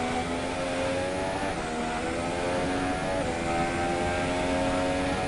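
A Formula 1 car in the F1 2017 video game drives into the Ascari corner. Its high engine whine holds steady, with two quick gear changes breaking the pitch. The car sounds close and loud throughout, with no talking.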